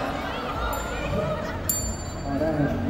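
A buzzer bell is pressed during a game show and gives a single bright ding, followed by a fainter ring. Lively chatter and background noise run underneath.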